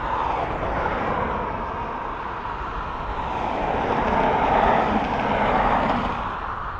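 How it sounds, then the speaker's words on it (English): A Loganair ATR turboprop airliner arriving from Aberdeen produces a continuous broadband engine drone at an airport, swelling gently toward the middle and easing off again, with no voices. "ATR coming in from Aberdeen and Scotland."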